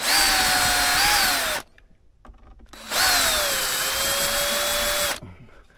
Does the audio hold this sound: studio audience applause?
no